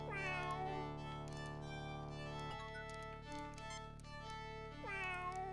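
A cat in the video game Star Trek: Judgment Rites gives a few drawn-out, wavering meows, one at the start and another near the end, sounding over a steady electronic hum.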